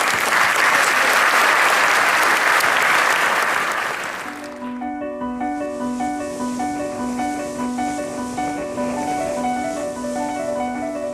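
Loud audience applause at a French sailing awards ceremony lasts about four seconds, then cuts away to steady music with sustained tones for the rest.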